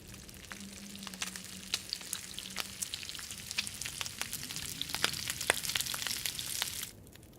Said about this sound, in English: We will cook the rancid venison.